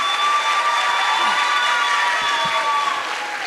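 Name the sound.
audience applause for Longwood alumni at graduation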